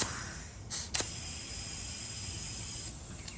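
A steady, close hiss of air escaping a tubeless tire through sealant runs throughout, with a couple of sharp clicks near the start.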